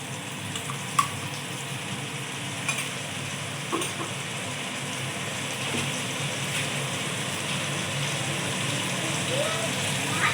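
Spice paste of ginger, garlic, tomato and chilli sizzles in a frying pan with fish, a steady close hiss with occasional small pops and a clink, under faint background noise.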